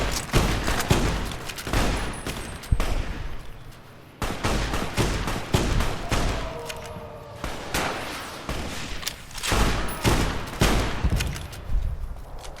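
Anti-material rifle fire in Fallout New Vegas, repeated heavy gunshots booming in irregular bursts alongside other battle gunfire and impacts, loud and close, with no talking.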